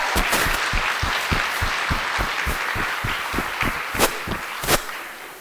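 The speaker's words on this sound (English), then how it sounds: "Please give them another round of applause" An audience applauds at a Lunar New Year celebration for the Year of the Tiger, steady crowd clapping with a few sharp, prominent claps close by, continuing for several seconds.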